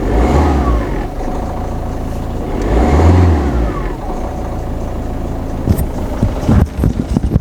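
A Ford Fiesta engine runs steadily at idle, a continuous mid-low hum with gentle swells in revs, close by, ending with a few clunks and knocks.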